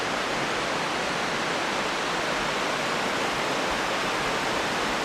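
A rushing mountain river beside a trekking trail in the Langtang Himalaya, Nepal, gives a steady, loud, broadband roar of churning water that fills the whole stretch without pause.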